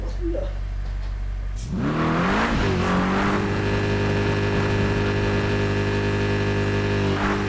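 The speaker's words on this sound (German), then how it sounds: "jetzt scannt das Auto das komplett autonom" A MODIplay toy car drives itself around a track with a whirring electric motor that starts after a quiet moment, then rises in pitch and holds a steady buzzing hum.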